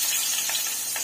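Garlic hitting hot fat in a pan and frying, a steady bright close sizzle with faint crackle throughout the short moment.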